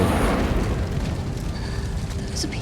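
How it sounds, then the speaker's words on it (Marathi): A petrol pump explosion in The Last of Us Part 1 leaves a deep, rumbling roar that fills the whole stretch, with crackling debris and a faint electronic tone beneath. "मोठा स्फोट झाला पेट्रोल पंपच फुटला"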